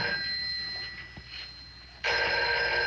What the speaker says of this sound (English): I'm answering the phone for the principal, you see.